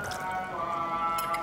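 Water poured into cornstarch being prepared as a thickener for chop suey, a soft brief trickle and splash of liquid, quiet and close, with no talking.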